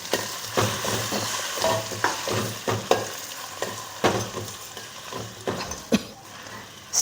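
Bitter gourd sizzles in a hot steel pan while a utensil scrapes and stirs it in irregular strokes, close up.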